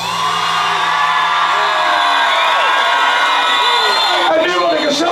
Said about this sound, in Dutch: Dames en heren, nog één keer applaus voor de dames.